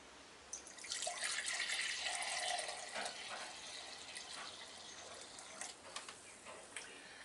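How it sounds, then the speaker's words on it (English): Homemade lavender vinegar poured out of a container, a continuous bright splashing stream that swells for a few seconds, then thins into trickles and scattered drips. "Now I just want to pour it out."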